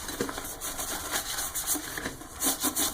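Rhythmic scrubbing of a surface with Fabuloso Cool Mist cleaner, repeated brisk rubbing strokes building suds, moderately close and steady with no voices.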